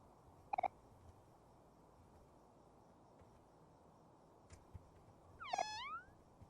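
Cats meowing at a playground in the video game OMORI: a short double call near the start, then a longer, louder meow toward the end, over a quiet background with no talking.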